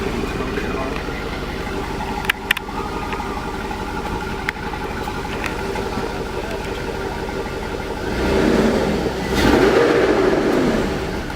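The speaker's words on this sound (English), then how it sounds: "Let me rev it a little bit." A swapped 5.3 LS V8 with chopped exhaust idles roughly up close, then revs up twice near the end. People talk over the engine.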